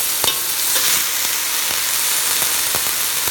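Pot roast coated in herbs browning in a hot pan, giving a steady, loud sizzle broken by a few sharp crackles and pops throughout, with no voices.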